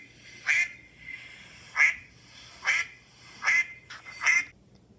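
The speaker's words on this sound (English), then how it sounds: "The small ducks waggle their tails and quack." Small ducks quack five times in loud, close bursts spaced roughly a second apart, with no voices over them.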